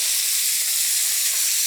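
A stick of butter melting in a heated pot, giving a steady, loud, close hiss of sizzling with no breaks and no talking.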